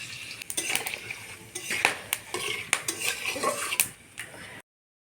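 Whole spices such as bay leaf, dried chilli, cloves, cardamom, cinnamon, mace and cumin, plus sugar, tempering in hot oil, with a spatula scraping and clinking against the pan in irregular strokes over a faint sizzle.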